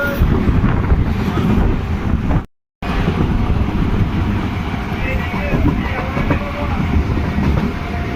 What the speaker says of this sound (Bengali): লোকনাথ ঢুকছে আমাদের ট্রেন